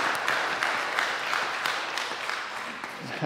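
A congregation claps during a church worship service, producing steady, dense applause from many hands that fills the room evenly and slowly tapers slightly toward the end, with no talk over it.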